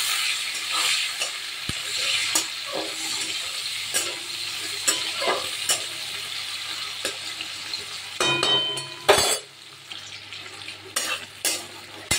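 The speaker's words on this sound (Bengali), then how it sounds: "আর এদিকে পেঁয়াজটা ফোড়ন দিয়ে দিই।" Onion tempering in hot oil in a pan for a fish curry, crackling and sizzling steadily up close, with bursts of stirring, scraping and metal clinks later on.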